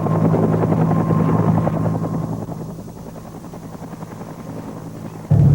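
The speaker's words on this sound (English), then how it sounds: "We loaded onto the helicopters and were lifted to this LZ, the landing zone." Military helicopters thunder during an air assault training exercise, a loud rotor chop that eases somewhat partway through before rising sharply again at the end, with no voices.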